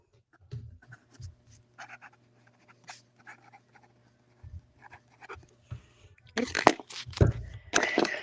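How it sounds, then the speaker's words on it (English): Handwriting on paper by hand, with soft intermittent scratches and strokes that grow busier and louder toward the end, with no talking. "So with your dominant hand, I want you to write"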